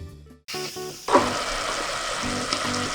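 Radishes cook uncovered in a pan as the added water simmers down and evaporates, giving a steady, close sizzling bubble that starts abruptly after a short silent moment and holds evenly to the end.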